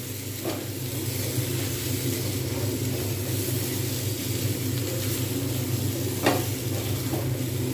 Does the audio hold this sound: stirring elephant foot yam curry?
yes